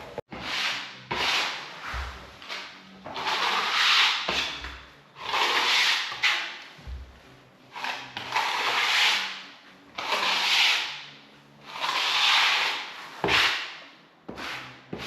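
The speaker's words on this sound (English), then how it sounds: "So make sure you get a 1mm A2 notched floor trowel." Thin floor adhesive is spread for LVT flooring with a 1mm A2 notched floor trowel, giving repeated long scraping sweeps close up, each lasting a second or two with brief pauses and a few knocks between strokes.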